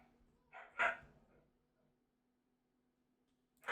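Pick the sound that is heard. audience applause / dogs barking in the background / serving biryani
dogs barking in the background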